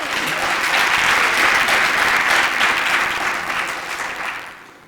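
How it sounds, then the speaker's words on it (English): Steady audience applause for a speaker at a talk, dense and even clapping that holds for several seconds before fading out at the end. "So if we could give a round of applause for Matthew."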